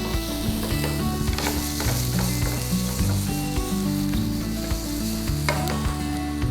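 Mushrooms and asparagus stir-fry in olive oil with a constant hiss and sizzle, punctuated by light spatula scrapes, over soft background music.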